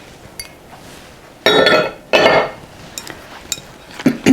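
Batter ingredients being mixed in a bowl, with a few loud, close bursts of clinking and scraping against the bowl and quieter taps between them.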